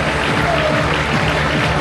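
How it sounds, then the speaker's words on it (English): A rugby league crowd roars and cheers after a try in the corner during a legends match, a dense, steady wall of crowd noise with applause, loud and sustained throughout. "listen to the crowd"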